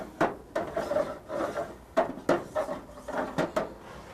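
Pull-out drawers of a custom truck storage unit slide open and shut several times, each pass a rubbing, scraping glide ending in a sharp knock, close and clear with no talk.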